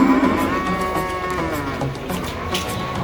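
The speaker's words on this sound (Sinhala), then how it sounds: "ලොකුම හරක් දෙන්න බලන්න ඉන්නේ ලොකුම හරක් දෙන්න." Large cattle in the Nuwara Eliya countryside of Sri Lanka give a long, loud, sustained moo that lasts nearly the whole moment, close by with no talking.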